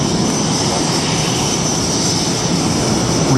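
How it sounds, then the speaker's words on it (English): Twin jet engines of a Blue Angels F/A-18 Super Hornet throttled back to idle during a low inverted pass at an airshow make a steady, loud roar with a high whine over it. The sound is sustained and continuous, with no voices. "Listen how quiet these two engines can be."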